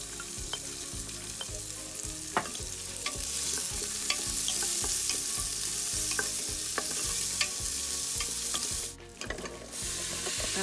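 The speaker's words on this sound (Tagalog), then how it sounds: "igisa na natin ang ating bawang" Garlic and onion sauté in a hot pan for beef nilaga, a steady loud sizzle with repeated rhythmic stirring scrapes and a brief clatter near the end; no talking.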